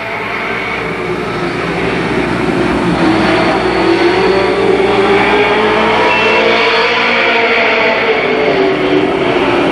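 Late model race cars roaring around Columbus Motor Speedway during a ten-lap heat race, a loud continuous engine drone that swells and shifts in pitch as the pack passes.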